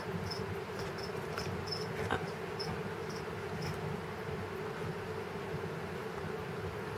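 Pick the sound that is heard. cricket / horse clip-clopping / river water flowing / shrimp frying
cricket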